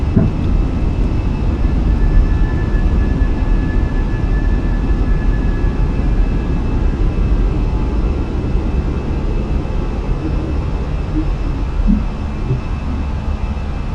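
Fenix A320 airliner on its takeoff roll in Microsoft Flight Simulator, a steady low engine roar and rumble with faint whine, continuous and even throughout, no talk.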